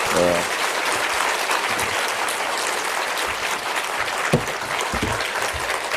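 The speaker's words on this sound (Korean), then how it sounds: "박수로 환영해 주시면 고맙겠습니다" A church audience gives a sustained round of welcoming applause for a visiting pastor, with many hands clapping steadily for several seconds and a few louder claps and murmurs near the end.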